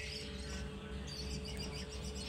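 Many birds chirp and tweet at once in a bird park, a busy layer of quick high calls over a constant low background hum.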